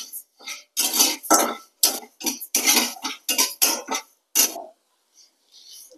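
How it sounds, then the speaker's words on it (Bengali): Raw rice is dry-roasted in a kadai, giving irregular bursts of scraping and rattling from stirring, close to the pan, with pauses between strokes. "চালটা একটু হালকা করে ভেজে নেব"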